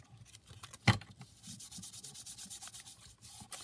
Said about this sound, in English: Just going to glue that flap down there.